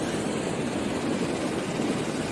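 A military helicopter's rotor and engine keep up a loud, continuous, broadband roar from close by, with no break.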